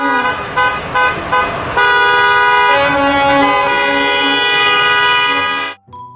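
A toy school bus horn sound effect, a few short toots followed by a long, loud sustained honk that stops abruptly.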